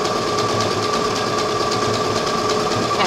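A sewing machine runs steadily, stitching stretch stitches along the bust seam of a tank top. The motor hums and whirs evenly and close by for the whole stretch, with a fast repetitive needle patter and no talking.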